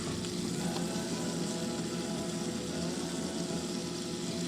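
Steak frying in cooking oil in a pan gives a steady, dense sizzle that holds evenly throughout, close and moderately loud, with no talking.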